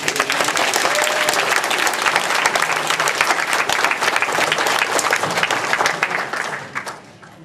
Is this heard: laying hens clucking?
no